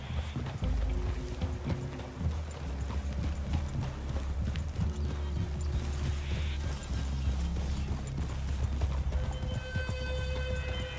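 Horse hooves clip-clop steadily while riding in Red Dead Redemption 2, a continuous rhythmic trot under game music and ambient sound, with an occasional faint whinny.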